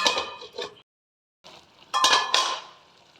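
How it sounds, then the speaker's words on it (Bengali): A metal lid set down onto a cooking pot while making a Bengali bean-leaf paturi, a few clanking knocks and scrapes of metal against metal, close and moderately loud, separated by a short pause. "এবার আমি ঢাকা দিয়ে দেবো।"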